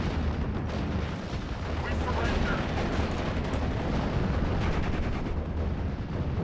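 Sustained dense battlefield bombardment from mortar fire in the WWII strategy game Steel Division: Normandy 44, with rumbling blasts and crackling gunfire layered continuously and loudly throughout, and talk in between.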